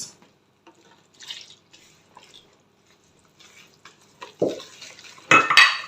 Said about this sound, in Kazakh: бірге салып алып араластырып аламыз